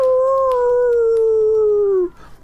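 A single long dog howl, a loud, clear, sustained sound effect that slowly falls in pitch for about two seconds before cutting off, accompanying a stream of a Fighting Fantasy gamebook in which huge black dogs cross a moor.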